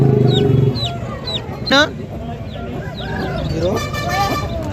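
Several chickens cluck and chirp at a busy Aseel poultry market, a hen with six small chicks among them, with a brief horn toot and crowd chatter in the background.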